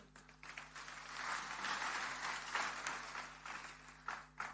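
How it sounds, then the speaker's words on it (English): A large hall audience at a university graduation ceremony at BMICH bursts into sustained applause, a dense, steady wash of many hands clapping that holds fairly constant for several seconds with no voices over it. "Everybody, a round of applause."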